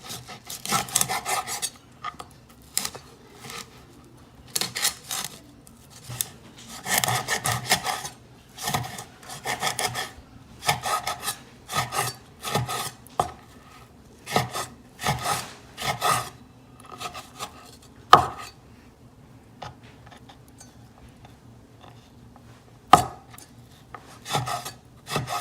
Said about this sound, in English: Now that my fish is a little bit soft, so I'm gonna mince this as well too.